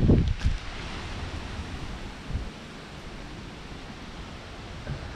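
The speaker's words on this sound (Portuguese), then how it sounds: "Muito vento mesmo, tá horrível." Strong wind blowing outdoors at a fish farm, a broad steady rushing roar with a couple of buffeting gusts at the start, no talk.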